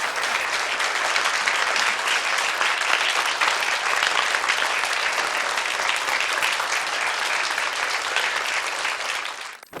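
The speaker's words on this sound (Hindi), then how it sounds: "जोरदार तालियां आप एक बार फिर से मेरे लिए बजाएं।" An audience at a Buddhist vihara quiz event bursts into loud, sustained applause, dense clapping holding steady for nearly ten seconds before cutting off abruptly.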